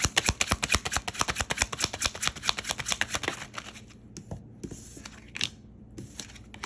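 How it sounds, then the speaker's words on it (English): Tarot cards riffle in a fast, crisp flurry of close clicks and flicks that thin out into a few scattered taps and soft slaps as cards spill and fall. "Sorry, cards are falling all over the place."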